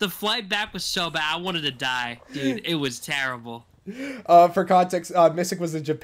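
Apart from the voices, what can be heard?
No everyday noise stands out behind the speech.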